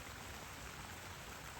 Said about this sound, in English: a little creek running down the driveway